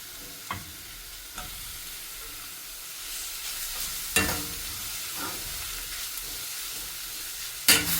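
Chicken pieces fry in a pan, a steady soft sizzle with occasional scraping knocks of a spoon stirring them, close and moderately quiet with no voices.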